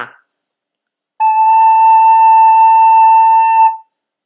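A single recorder note, La, held steady for about two and a half seconds, clear and pure, played alone after a brief pause.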